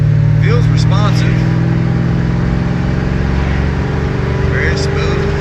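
A 425 hp Chevrolet Monte Carlo SS engine pulls with light throttle on a road drive, a steady low drone building smoothly, with someone talking briefly over it inside the car.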